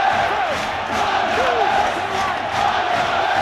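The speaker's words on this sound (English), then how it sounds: "Listen, the Warrington crowd." Warrington rugby league crowd at a Super League match against Wigan, a loud, steady roar of massed voices with rising chants and cheers swelling across the stand, no single voice standing out.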